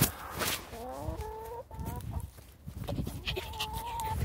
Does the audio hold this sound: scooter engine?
no